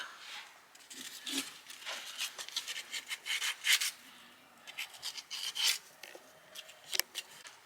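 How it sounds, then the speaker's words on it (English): Steady scratchy rubbing strokes of sanding against a new metal motor shaft, close up, in an irregular back-and-forth rhythm with no talking. "Sand down the new shaft"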